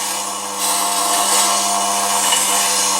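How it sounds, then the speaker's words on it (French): A turning tool is sharpened against a grinding wheel, a steady continuous whine and grinding rasp that swells slightly after the first half second and holds evenly throughout. "on va la promener sans appuyer sur toute la largeur de la meule"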